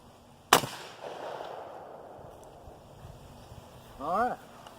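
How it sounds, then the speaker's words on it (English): A single sharp rifle shot, from a 30-30 or .32 Winchester Special fired at water jugs, cracks loudly near the start and then trails off, followed by faint outdoor background and a brief squeaky sound near the end. "I'm going to shoot the right set of jugs."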